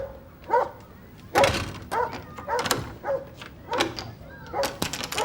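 A dog barks behind a door at a house during a police visit: a run of sharp, repeated barks and yips in uneven bursts, fairly close, with a few whimpering tones between them.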